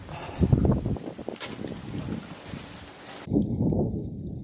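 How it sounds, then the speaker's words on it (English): Gusty wind buffets the microphone with low rumbling bursts, rising and falling, then cutting sharply to a quieter roar. "it's so windy"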